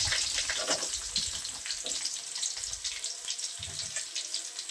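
Chopped garlic and thinly sliced onions fry in a pan for a cluster bean curry, making a continuous, even hiss of sizzling oil at close range with occasional soft stirring knocks.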